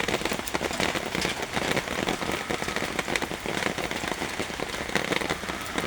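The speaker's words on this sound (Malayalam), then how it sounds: "രാവിലെ തന്നെ ഭയങ്കര മഴയാണ്" Heavy morning rain pours steadily onto surfaces, a dense, continuous patter of close drops that stays even throughout, with no voices.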